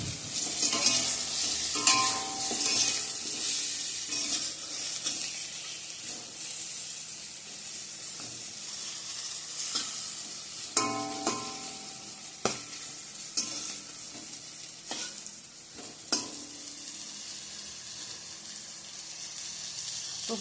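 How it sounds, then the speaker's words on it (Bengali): Pointed gourd (potol) frying in a home kitchen pan, a continuous hissing sizzle with intermittent sharp clinks and scrapes from stirring, close by and with no voices. "তো পটল ভাজাটা আমার এদিকে হয়ে গেছে"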